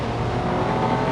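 A Ford 2.5 litre V6 Duratec engine revs hard, producing a dense, steady, loud roar that holds throughout with no voices over it.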